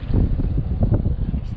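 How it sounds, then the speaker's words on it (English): Strong wind blows across the microphone on a fishing pier near a reef, a loud, continuous, buffeting low rumble with gusting surges. "I got a wind like crazy there because of the reef"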